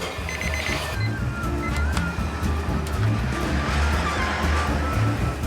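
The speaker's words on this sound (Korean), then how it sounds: "알람 소리였군요" A kitchen timer alarm goes off in a busy noodle restaurant kitchen, a short bright repeating beep near the start over steady clattering kitchen noise.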